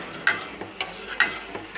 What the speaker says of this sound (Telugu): ఇప్పుడు కలుపుతూనే ఉండాలి